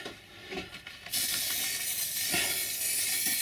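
A continuous hissing spray from an aerosol can starts abruptly after about a second and keeps going steadily along a model railway track, close and fairly loud, with faint clicks before it begins.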